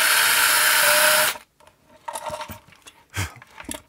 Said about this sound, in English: I'm just drilling some 4 millimeter holes here